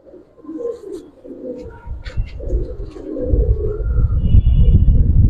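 Giribaz pigeons of the Palla line, old-breed silver and coloured birds at a show stage, coo in low rolling bursts under a busy crowd, with brief higher chirps and a faint steady tone late on.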